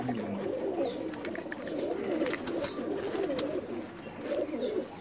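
Several pigeons coo continuously at close range, their soft, throaty calls overlapping in a steady murmur with a few brief flutters.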